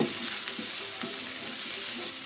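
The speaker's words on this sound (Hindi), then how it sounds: "हम इनको अच्छे से फ्राई करेंगे" Carrots and capsicum fry in a pan, a dense, even sizzle right up close, punctuated by soft rhythmic stirring strokes roughly every half second.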